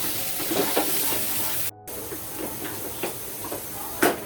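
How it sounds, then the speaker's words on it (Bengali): Washed, dried rice fries with spices in a pan while being stirred, a steady close sizzle with soft scraping stir strokes and a brief gap partway through. "এইভাবে নেড়ে চেড়ে চালটাকে ভালোভাবে ভেজে নেব"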